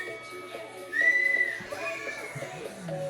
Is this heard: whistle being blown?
yes